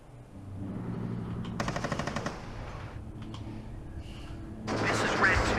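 Machine gun fire in the war game WARNO: a sustained burst with a rapid rattle of shots in the middle, over a steady battle rumble, ending in a louder, harsher blast of gunfire.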